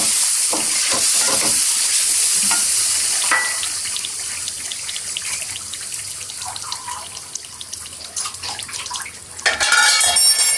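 Chicken biryani masala with fresh coriander being stirred in a cooking pot, with continuous scraping and clinking of a spoon against the metal, steady close-up kitchen clatter and hiss, and no talking.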